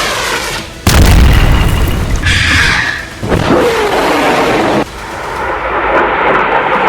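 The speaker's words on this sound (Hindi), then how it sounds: "इजराइल का ये डिफेंस सिस्टम फौरन एक्टिव हुआ और उसने हुथी की बैलिस्टिक मिसाइल को मार" Explosions from an Israeli air defense system intercepting a Houthi ballistic missile: several loud, heavy booms rolling out one after another, each followed by a rumbling decay, with no talk.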